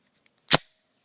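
Single sharp gunshot from a 4-inch barrel SW99 .40 caliber pistol firing a factory reload, a loud crack with a quick decaying tail, otherwise quiet.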